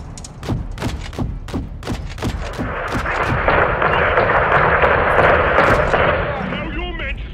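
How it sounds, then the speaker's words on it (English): Gunfire and a heavy missile blast fill a Call of Duty: Modern Warfare 2 battle on PS5, rapid sharp shots giving way to a loud sustained rumbling explosion, with a voice shouting over the chaos. "We've got an incoming missile!"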